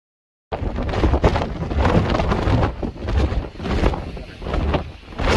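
Strong gusts roar over the microphone near the top of Goose Eye Mountain on the Appalachian Trail, a loud, turbulent rumble that swells and dips for several seconds.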